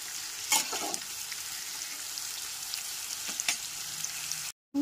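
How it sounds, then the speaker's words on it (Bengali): Onions frying in a pan over a medium flame, a steady soft sizzle with a few louder stirring scrapes near the start and middle, no talking, ending in a brief silence. "মিডিয়াম ফ্লেমে ভেজে নেব। পেঁয়াজটাকে কিন্তু ভালো করে ভেজে নিতে হবে।"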